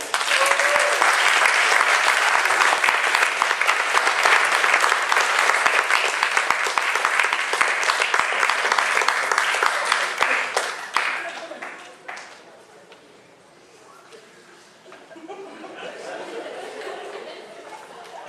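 A theatre audience applauds the writer, Dr. Chad Wilkerson, after a performance. Loud, dense clapping lasts about eleven seconds, then fades into quieter crowd chatter and a few scattered claps.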